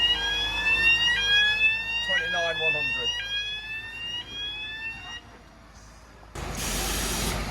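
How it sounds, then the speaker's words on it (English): A loading alarm signals that a lorry trailer is full: a loud electronic tone sweeps in repeated rising and stepping pulses for about five seconds, then a burst of broad hissing noise, with voices in the background. "That's the alarm going to show that it's full."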